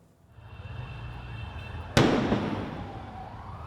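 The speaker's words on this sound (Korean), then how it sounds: "커다란 폭발음에 놀란 사람들이 앞다퉈 달립니다." A walkie-talkie explodes at a Hezbollah funeral in Lebanon: a single sudden loud blast over crowd noise, its roar decaying over a second or two as people flee.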